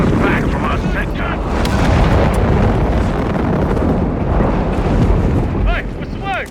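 Artillery fire in a Company of Heroes 3 battle, a dense continuous rumble of blasts and debris, loud and close throughout, with brief whistling shells near the end.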